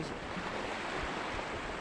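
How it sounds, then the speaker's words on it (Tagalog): Choppy ocean waves at sea off Sitio Recudo, a dense, continuous roar of surf and wind that stays loud and steady throughout, with no voices. "ang ating karagatan ay medyo maalon kunti"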